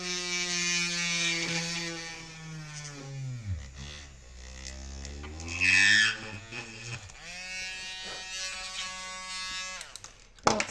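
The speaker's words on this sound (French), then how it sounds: "je pense que je vais tout de suite la trouer, la percer." A small electric drill bores into a hardened resin jewellery heart, a steady high whine with harmonic tones that dips and bends in pitch as the bit bites and slips on the slick surface, close and continuous.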